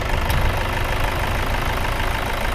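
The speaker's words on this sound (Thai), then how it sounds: "ตอนนี้สตาร์ทเครื่องอยู่นะ" A 2009 Toyota Vigo 2.5 diesel pickup engine idles steadily up close, a constant low rumble with a broad hiss on top and no talk over it.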